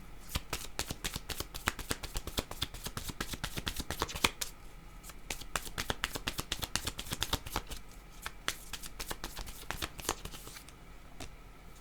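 A deck of playing cards is shuffled close by in quick crisp bursts of riffling and snapping, repeating throughout at a soft, even level.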